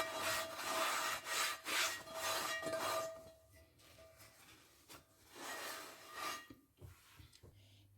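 A towel rubs over a cast iron pan, making close, dry scrubbing strokes in uneven bursts that fade to quieter wiping and a few soft knocks.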